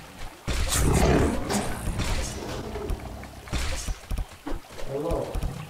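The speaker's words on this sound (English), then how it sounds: "Hearing a lion roar." A lion roars in the VR game Cradle of Sins, a loud, rough burst that swells and rolls on for a couple of seconds, followed by further rumbling game noise and impacts.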